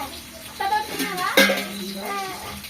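Pots, pans and dishes clatter and scrape while they are washed in a home kitchen, with close, uneven knocks and one sharper clank, and a voice faintly in the background.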